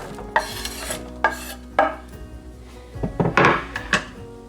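Diced onion tipped into melted butter in a skillet, heard as a few scraping, clattering stirs of a utensil against the pan over a low, steady sizzle, close and alone without talk.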